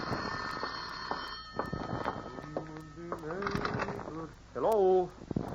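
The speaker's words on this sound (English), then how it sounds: "The phone startles you, doesn't it, Corey?" A telephone ring in an old radio drama comes as one short, warbling burst near the end. It follows a stretch of quiet speech and scattered small room noises.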